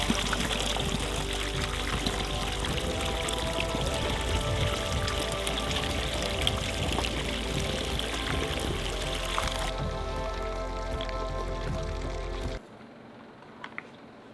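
A mountain spring pours and trickles steadily in a continuous close, loud stream of water that cuts off near the end, leaving a quiet tail.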